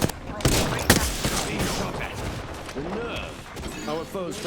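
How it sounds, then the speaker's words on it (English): Ballistic's smart bullets firing in Apex Legends: a few sharp gunshot cracks near the start, then quieter fire under a speaking voice. "Our foes felt the sting of my smart bullets."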